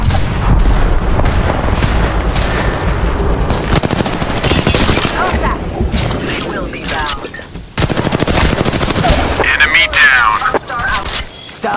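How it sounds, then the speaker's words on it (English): Dense, loud automatic gunfire from the Apex Legends battle royale, with rapid bursts and booming shots close by, fading and returning in waves, and a voice talking over parts of the fight. "Listen up, I'm getting shot at."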